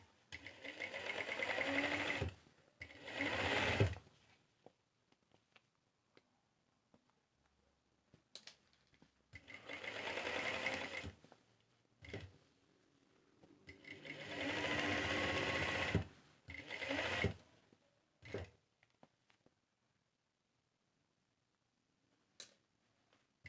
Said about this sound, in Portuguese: Vou fazer um quilting simples, que é o quilting livre.